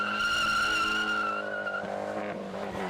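Fiat 500 Abarth cars run an autocross course, with a sustained tonal tire squeal over engine noise that fades and breaks up near the end.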